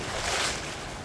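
Ocean waves surge and splash at Bondi Beach in winter, a brief close whoosh of breaking water mixed with wind buffeting the microphone.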